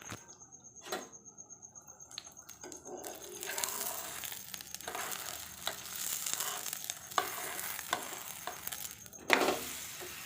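A roti coated in egg, onion and chili batter fries in an oiled pan with a soft, steady sizzle. Occasional crackles and utensil clicks are heard close by.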